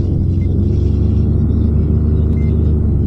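A paramotor engine runs steadily in flight, heard as a constant loud low rumble and hum with no breaks or voices across the short stretch.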